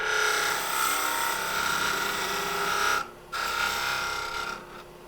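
Wooden drawer pull spinning on a lathe while being parted off, a steady scraping, rasping cut with a brief pause midway before resuming.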